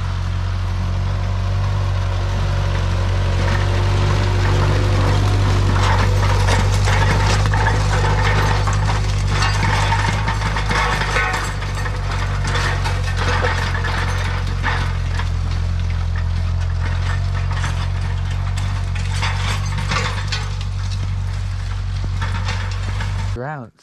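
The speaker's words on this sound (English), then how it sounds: "we are going to put that in our little spreader here" A small seed spreader scatters deer food plot seed over a freshly tilled seed bed, its gears whirring and ratcheting steadily and close by for the whole stretch, then cutting off at the end.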